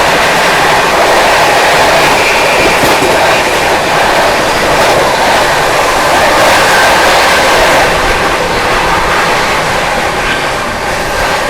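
The Seemanchal Express overtakes the Prayagraj Express, giving a loud, sustained roar of rolling wheels with rhythmic clickety-clack from the passing coaches, close and steady throughout.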